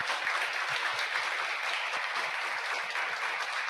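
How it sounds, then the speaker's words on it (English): Steady audience applause at an awards ceremony fills the whole stretch, dense and even, with no voices over it. "Por favor, un aplauso de nuevo para ellos."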